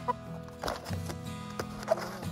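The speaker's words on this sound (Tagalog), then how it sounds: "Mga gayina po to, native. Native na manok siya, oh." Native farm chickens cluck in a run of short, soft calls with a few sharper peaks, fairly close and alone, on a small farm in Spain.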